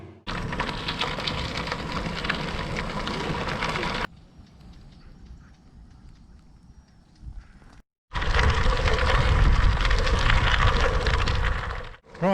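Loud pouring rain roars outside. The dense downpour stops abruptly for a few seconds, leaving a quiet, muffled gap, then returns at full strength.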